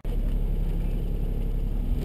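A 1996 Daihatsu Mira TRXX Avanzato on the move, a steady low engine drone and road rumble heard from inside the small car, loud and unbroken.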